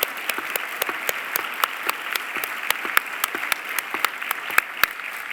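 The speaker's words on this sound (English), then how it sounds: "Let's give them a big round of applause." A large audience claps steadily at a fall convocation ceremony, an even, continuous wash of applause with occasional louder individual claps and no talking.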